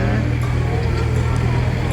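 A tractor levels freshly dumped fill soil beside a house, its engine giving a steady, close low rumble throughout with no break.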